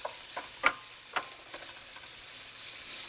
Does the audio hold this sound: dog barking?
no